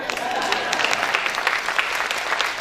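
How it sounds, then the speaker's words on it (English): A live audience at a fiesta-style show breaks into steady applause, dense overlapping claps at an even level throughout, with a faint crowd murmur underneath and no clear voices. "Give yourselves a round of applause."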